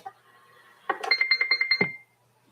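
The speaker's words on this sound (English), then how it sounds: "We'll set it on Roger beep 1. And we will go and turn the Roger beep on." A radio transceiver set to roger beep number 1 plays a quick series of about eight short electronic tones at the end of a transmission, heard over a monitor radio in a quiet room and ending abruptly.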